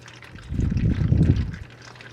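Fluid drains from a Kubota L3130 tractor during 400-hour maintenance, a close, gurgling trickle that swells to a steady pour for about a second before tapering off.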